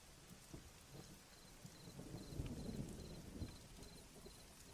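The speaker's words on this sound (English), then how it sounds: "The rolling of the thunder and stuff sounds very..." Rolling thunder with steady rain in the video game Black Mirror III, a low rumble swelling and fading under constant patter, with a faint repeating beep in the background.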